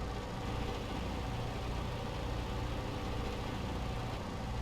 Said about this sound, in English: And listen to this engine.